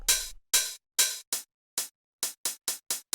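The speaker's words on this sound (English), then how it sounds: "So what we've got here is we have two 909 hi-hats." Bright, hissy Roland TR-909 open hi-hat hits sound alone, the first few longer and more open, then quicker, shorter ones in an irregular pattern.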